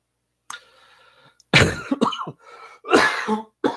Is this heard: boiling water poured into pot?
no